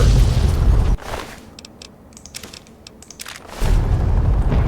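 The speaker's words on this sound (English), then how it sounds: "Lots of big explosions. Very fun." Heavy booming explosions from Fallout 3 roar at the start and end, with a quieter stretch of crackling, popping bursts in between.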